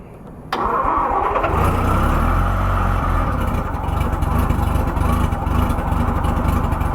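A Norton Rotary motorcycle engine turns over and catches after a brief quiet start, then settles into a loud, steady, rumbling idle heard up close with no talking.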